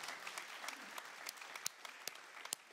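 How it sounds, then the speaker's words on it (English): A church congregation claps after a sermon point, sparse individual hand claps standing out from a soft wash of applause, fairly quiet and brief. "You can clap for that."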